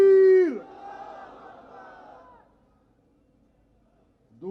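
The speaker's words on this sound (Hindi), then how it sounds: "पहला नारा हर मुसलमान लगाता है, हमारी अफवाज भी लगाती हैं, नारे तकबीर" Crowd at a PTI political rally in Karachi roars the Takbeer slogan in unison: a loud, sustained shouted chant that fades into a murmur of voices, then a new burst of shouting begins near the end.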